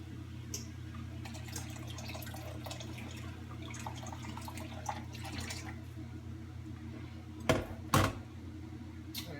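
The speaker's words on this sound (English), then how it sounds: "I'm going to take a little bit of this water out of here." Quiet watery sloshing and dripping as water is scooped out of a slow-cooker pot of pinto beans over a low hum, ending with two sharp knocks of a utensil against the pot.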